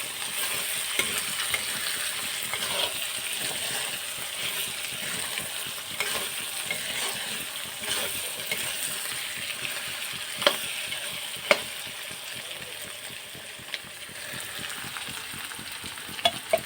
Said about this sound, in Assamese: এতিয়া অকণমান লৰাই দিওঁ আকৌ মাংসখিনি